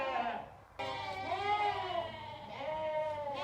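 Spring lambs and ewes bleating loudly and close during weaning on a farm, several long wavering overlapping bleats one after another over a steady background hum, no talking.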